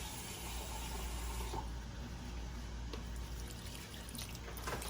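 Water poured into a thick batter, a faint, continuous trickling and splashing stream lasting a few seconds, quiet and close with no voices.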